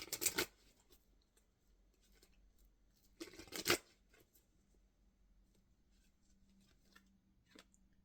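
Oracle cards from the Queen of the Moon deck are shuffled and handled close by, with two short bursts of riffling separated by quiet, then faint slides and taps.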